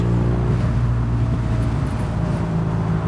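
A motorbike engine idles and rolls along with a low, throaty grunt: a steady, close, deep rumble that holds evenly throughout, with no voices.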